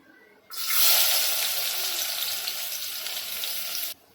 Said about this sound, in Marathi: आपण इथे कांदा तळतोय